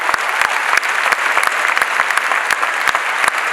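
An audience applauds the dancer Sona at a dance academy recital, loud, sustained clapping from a large crowd with sharp individual claps standing out from the wash.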